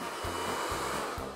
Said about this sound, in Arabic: أنت تجرب الاستشوار؟